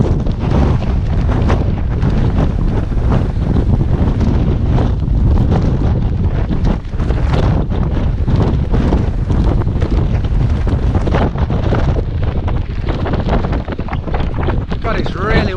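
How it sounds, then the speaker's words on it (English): Strong wind buffeting the microphone on the North York Moors in December, a loud continuous roaring rumble with gusty surges throughout and no pause. "God, it's really windy up here."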